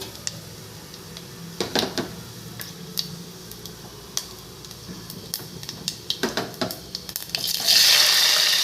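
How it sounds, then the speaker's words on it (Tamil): Fenugreek seeds spluttering in hot oil for a thorny nightshade gravy, scattered sharp pops and crackles over a low sizzle, growing busier with a louder hiss near the end. "வெந்தயம் பொரிய ஆரம்பிக்குது"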